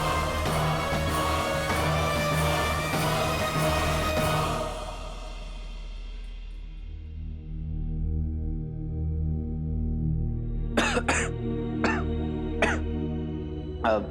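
A person coughs in short, sharp bursts, several loud close coughs late in the scene after a stretch of voices and music.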